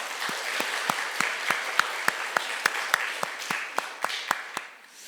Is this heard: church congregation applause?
yes